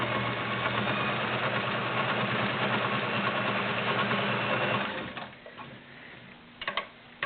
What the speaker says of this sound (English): Let's do a multi-point zigzag on 5 layers of denim.